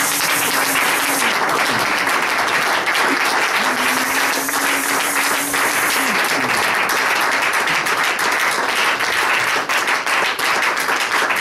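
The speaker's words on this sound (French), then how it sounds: "Applaudissez pour la grâce de Dieu" A church congregation applauds during a Saturday worship seminar, dense steady clapping filling the whole stretch at even loudness, with a sustained sung or voiced tone rising briefly above it early on.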